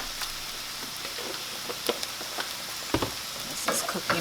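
Food frying in a pan sizzles steadily up close, with small crackles, spits and a few stirring clicks, and no voices over it.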